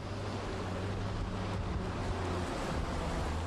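Sea waves break on the coast at Ovar, a continuous roar of surf with a low rumble and wind buffeting underneath, steady and moderately quiet throughout.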